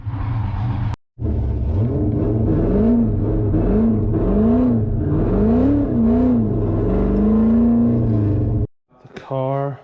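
A C6 Corvette fitted with coilovers and an angle kit, driven with a loud, close engine. It revs up and down repeatedly with rising and falling pitch, and a brief cut near the start and the end.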